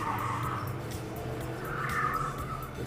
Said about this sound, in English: lazy spin there for the Park Place Motorsports Porsche.